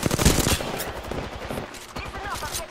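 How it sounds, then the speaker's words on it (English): Rapid automatic gunfire from Apex Legends cracks out in quick rhythmic bursts, close and loud at first, then continuing in a steadier rattle while a voice speaks over it. "Listen up, I'm getting shot at."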